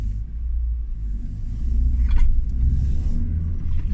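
Interior of a car taking a curve and braking, a steady low engine and road rumble that swells slightly midway, with faint rattles and no talk.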